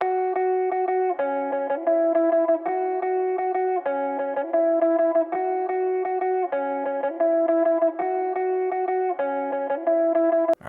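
An FL Studio guitar counter melody with a chorus effect, built for a new wave post-punk beat, plays alone. Bright two-note phrases repeat in a steady looping rhythm, clean and up front.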